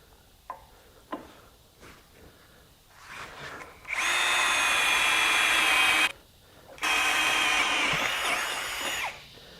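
Faint clicks, then a Ryobi HP 18V One+ compact cordless drill whines loudly in two sustained bursts as it bores through 1/4 inch steel at speed 2, with a short pause between runs.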